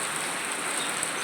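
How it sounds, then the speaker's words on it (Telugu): Steady rain falls on a Krishnashtami day, an even, dense hiss of drops on surfaces with no letup, close by and constant, with no voices or other sounds over it. "నేను లేచినప్పటి నుండి వర్షమే ఉంది కదా"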